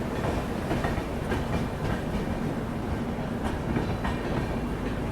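The Vikramshila Express rolls steadily along the rails with a continuous rumble and recurring clickety-clack from the wheels, heard from inside the moving train.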